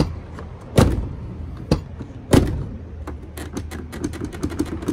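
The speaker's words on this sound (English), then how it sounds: "I think the only thing that's making a sound is this fucking mirror." A door mirror on an 2008-or-later Ford Excursion rattles: two solid thuds, then a run of quick, light ticking clicks close by, with no talking.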